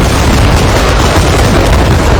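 Giant cannons on an imperial warship fleet fire on a harbor in an anime battle, a dense, continuous roar of booming blasts and explosions with no pauses, loud and close throughout.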